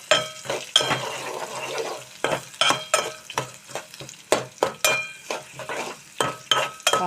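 Sliced onions fry in hot oil for an okra curry, loud spatula scrapes and clinks against the pan landing in an irregular, busy rhythm over a light sizzle, close up with no voices.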